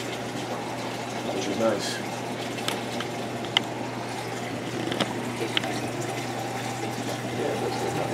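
Water runs and gushes steadily while rinsing during installation of a PG 8583 pump, a continuous close flow with a few small clinks, as people talk over it.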